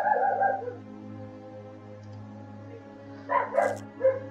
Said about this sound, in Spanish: No puede ser que el perro ladre tanto.